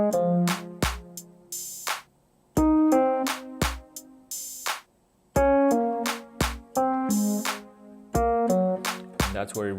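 Piano plays a pop song along with a drum track, clear chords and melody punctuated by punchy beats, close and loud with short pauses between phrases.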